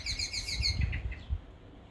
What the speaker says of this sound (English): there were some blackbirds in the background